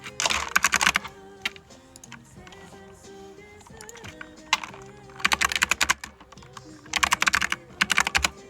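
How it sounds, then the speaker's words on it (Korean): Computer keyboard typing in bursts of rapid clicks, loud and close, separated by quieter pauses with faint background music. "타자 소리 너무 커요?"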